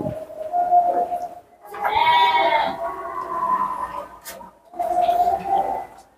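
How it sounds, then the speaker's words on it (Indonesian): Local sheep bleating in a farm pen, three close, loud bleats spaced a couple of seconds apart, with little else around them. "Ini domba lokal ya?"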